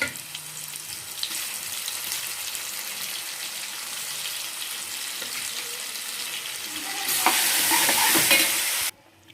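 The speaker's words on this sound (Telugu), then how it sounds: "పచ్చడిని అయితే నేను ఇప్పుడు తాలింపులో వేసేస్తున్నాను" A chutney is stirred into a sizzling tempering of cumin, mustard seeds and curry leaves, giving a close steady hiss and scraping. Near the end it surges into a louder burst of frying, then cuts off.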